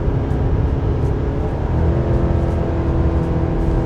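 A Chevy 1500 pickup's 2.7L TurboMax four-cylinder engine holds a loud, steady high-rev drone near 5000 RPM while climbing a grade towing, heard from inside the cab with constant road rumble and no speech.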